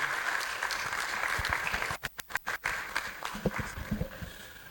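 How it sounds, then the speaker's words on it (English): An audience at a medical and dental alumni gathering applauds for a keynote speaker, steady clapping that briefly drops into a few sharp gaps midway before resuming, with some nearby movement. "A round of applause for Professor Babajide."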